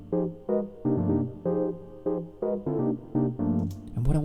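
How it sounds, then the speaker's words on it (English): Analog synthesizer chords played through a chord MIDI device in Ableton Live, a series of short rhythmic stabs with rich harmonic tones, each chord clearly separated, loud and dry with no voices. "I'm going to show you a little sound that I've created using an analog synthesizer and a chord MIDI device"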